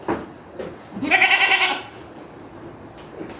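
A goat gives one loud, wavering bleat lasting about half a second, close to the microphone, against a quiet outdoor background.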